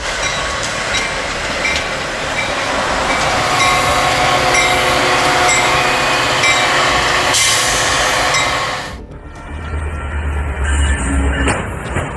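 A Metra train strikes a car at a crossing, a loud continuous rail rumble and rattle building for several seconds, then a sharp burst near the end before the sound cuts to quieter, lower noise.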